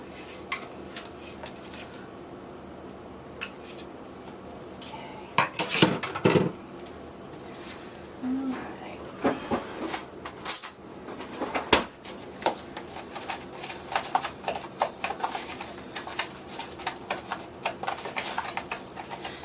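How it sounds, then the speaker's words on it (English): Brown sugar and cocoa mix being stirred together in a mixing bowl, with scattered taps and scraping bursts that grow busier toward the end. "Mix it together."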